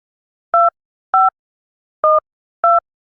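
A telephone handset emits four short, identical electronic beeps with an uneven spacing, loud and clean against silence, as when a call is being placed.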